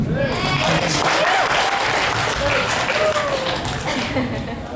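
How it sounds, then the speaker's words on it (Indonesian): Dense applause from a university audience, steady clapping with some voices mixed in, loud and sustained before tapering slightly. "Tepuk tangan dong."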